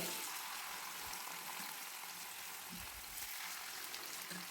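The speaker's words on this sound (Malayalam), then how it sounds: "എണ്ണ ചൂടായതിന് ശേഷം ഇതുപോലെ ഓരോ മീനും ഇട്ട് കൊടുക്കുക" Pieces of vala fish fry in hot oil in a pan, giving a steady, soft hiss and crackle with a few faint pops, quiet and uninterrupted.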